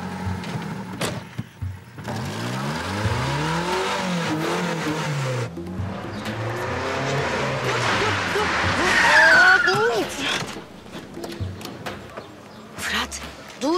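A car speeds off with tires squealing and the engine revving, loud and close, building to a sharp screech while people talk over it in Turkish amid dramatic music.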